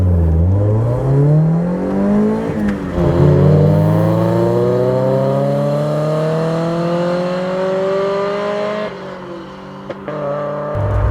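A 1986 Toyota AE86 Corolla GT with its 1.6 litre four-cylinder engine and five-speed manual revs up loud and close, the engine note climbing steadily through the gears with short dips at each shift.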